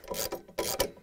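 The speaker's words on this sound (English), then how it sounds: "we're going to use a 19 millimeter socket wrench to tighten the bolt" A 19 mm socket wrench tightens a bolt on a Samsung washer spider arm assembly, giving a quick run of close, raspy ratchet clicks in two or three short strokes.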